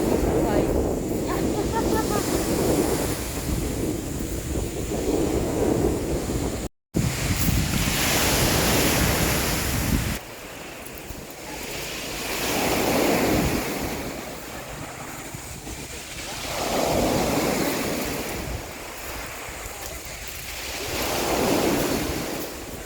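Sea waves and wind at Puerto Galera, strong surf rolling in repeated surges with heavy wind buffeting the microphone, a brief dropout midway, and people talking at times.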